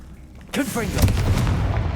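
Confringo fire spell blast cast in Hogwarts Legacy, a sharp whooshing launch with swirling sweeps followed by a booming fiery burst that rumbles on, with a character's voice heard in the mix.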